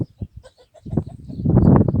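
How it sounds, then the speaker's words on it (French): A brown Brahma hen gives a few short, separated clucks that build into a louder, fuller run of clucking, heard close up in a backyard poultry flock. "La poule Brahma marron."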